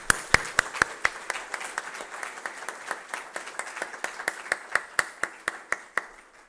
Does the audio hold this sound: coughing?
no